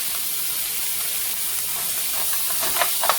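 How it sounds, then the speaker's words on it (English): Chopped red onion from the freezer sizzling in a pan, a steady close hiss of frying throughout with a few soft stirring clicks near the end. "let this red onion cook down"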